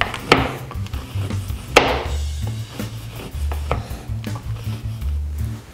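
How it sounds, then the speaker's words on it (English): A knife runs through a block of chocolate on a cutting board, giving a few sharp, close chopping knocks spread over the stretch, with low steady hum underneath. "So we just take your block and just run your knife through it"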